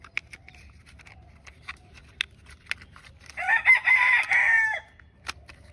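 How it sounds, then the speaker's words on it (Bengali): In a village, a rooster crows once clearly at middle distance, with scattered short clucks and chirps from chickens before and after against a quiet background. "আমরা রয়েছে একটি ভিলেজ সাইট এরিয়াতে তো তোমরা শুনতে পাচ্ছ আশেপাশে মুরগির ডাক"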